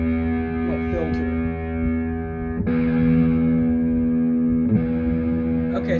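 An electric guitar through the filter effect of a Line 6 M13 effects board: sustained, buzzy, distorted chords with a steady harmonic drone and a few sharp strums between held notes.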